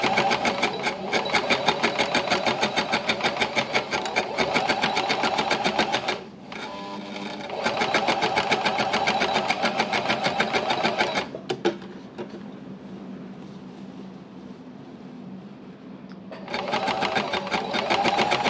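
Sewing machine embellishing fabric, a fast steady mechanical stitching rattle that pauses briefly, then resumes and stops again, leaving quieter room noise before starting once more.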